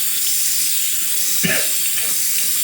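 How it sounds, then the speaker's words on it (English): Water runs in a steady, loud hiss onto a Shapton Pro 1.5k sharpening stone, with a brief splash or shift in flow midway as the stone is wetted. "Let me wet this stone up and get on sharpening here, honing."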